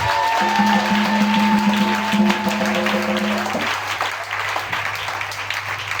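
A church congregation at a deliverance service applauds and cheers in a dense, continuous wash of clapping, loud at first and tapering slightly, over a sustained organ or keyboard chord that drops out partway.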